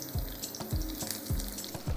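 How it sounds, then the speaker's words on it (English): Garlic and onions frying in a pan, a dense close sizzle with a low rhythmic scraping or stirring stroke recurring about every half second. "I'm actually gonna put in my garlic now and my onions too"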